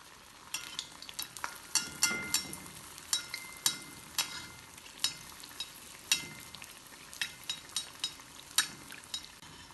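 Food frying in hot oil for an Ugadi dish, a steady crackling sizzle with frequent sharp pops and spatters close by, no voices over it.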